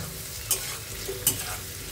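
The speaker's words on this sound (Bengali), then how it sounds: "তাই আলুটা ভাজছি।" Potatoes fry for aloo posto in a pan, making a dense, steady sizzle close by. Two quick spatula scrapes stand out above it.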